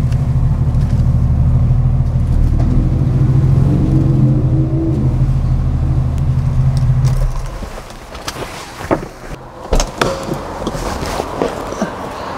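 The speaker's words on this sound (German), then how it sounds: "das war unsere Probefahrt mit unserem Porsche 993 S4" A 1997 Porsche 993 4S sports car drives on a test drive, its engine a steady, loud rumble that drops off partway through, followed by knocks, clicks and handling noises up close.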